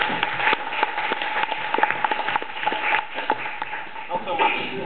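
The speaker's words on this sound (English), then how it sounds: "Give him an applause." An audience in Gothenburg applauds a demonstration partner, producing steady, dense clapping with sharp hand strikes throughout, fairly close and sustained for several seconds with a murmur of voices mixed in.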